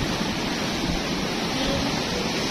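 Large ocean waves at Karang Hawu on the south coast of Java, a dense continuous roar of surf filling the whole clip, loud and close, with no voices.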